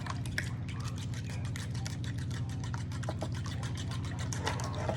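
Fork beating eggs with a splash of milk in a bowl for an omelette, giving a fast, steady clicking and sloshing rhythm, close and continuous throughout.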